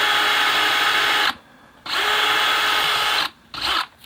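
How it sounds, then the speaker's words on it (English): A power drill whirs loudly and steadily, stopping briefly twice and starting again, close by with no talking, as a drill bit works while installing a switch machine on a model train layout. "Just get in there with the drill bit."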